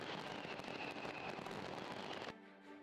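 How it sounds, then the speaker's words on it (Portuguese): Fireworks burst over London at New Year's midnight, a dense, loud barrage of crackling explosions that runs nonstop before cutting abruptly to a quieter tail. "à meia-noite, os fogos de artifício do ano explodiram no céu enquanto o Big Ben soava para dar as boas-vindas a 2024"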